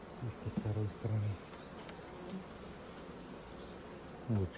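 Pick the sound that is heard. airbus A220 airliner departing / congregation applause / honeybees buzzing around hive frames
honeybees buzzing around hive frames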